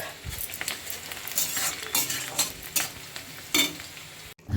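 Spice paste being fried in a pan with rapid crackling sizzle and intermittent scraping stirs of a utensil against the metal, close and fairly loud, ending in a brief clatter.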